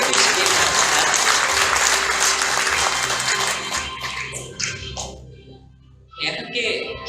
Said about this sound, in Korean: 모두 큰 박수로 다시 한번 축하해 주시기 바랍니다